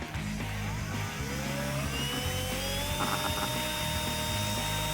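A power drill runs steadily with a whining motor, stirring pool shock into a bucket of water; the tone rises and falls in pitch, close and continuous, with faint clatter beneath.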